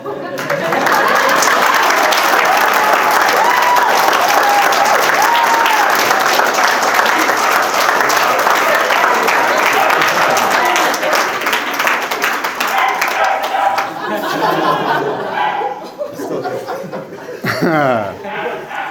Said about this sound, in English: And for that, he gets applause and yet another kiss.